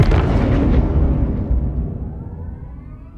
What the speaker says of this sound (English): this feels like the laser firing and then come down to a consistent laser beam sound